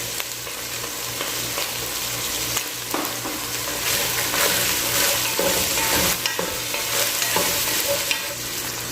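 Garlic sautéing in a pan for pancit canton guisado, a steady loud sizzle with stirring scrapes throughout, close up and continuous, no voices.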